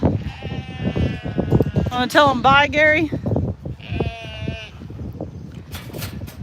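Goats on a farm in Alabama bleat loudly and close by, several wavering calls in quick succession amid wind noise, while people talk nearby.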